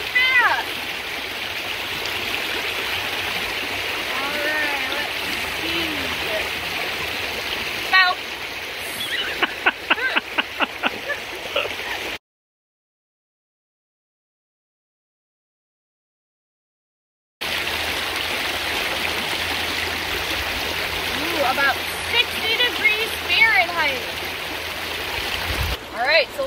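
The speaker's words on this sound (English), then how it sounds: "I'm noticing there's a lot more water and it's going really fast." Fast-flowing creek running high after extra water, a continuous close rushing and gurgling broken by a few seconds of silence midway, with voices talking over it.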